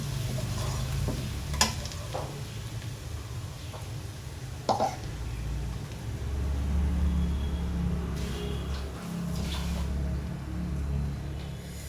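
Ginger garlic paste sizzles steadily in a pan over a low flame as it is stirred, with a few sharp scrapes and clicks of the spoon against the pan over a constant low hum.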